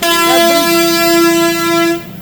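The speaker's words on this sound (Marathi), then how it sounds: "हॉर्न आहे लय बेकार आहे" A loud, sustained bus horn blares steadily for about two seconds near a bridge in Tirupati, then cuts off, leaving quiet traffic noise behind.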